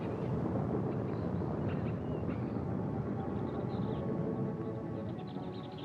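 Heavy rainstorm with rolling thunder over a swamp in a 1955 horror film, a dense, steady roar of rain and low rumble filling the whole stretch without a break or any voices.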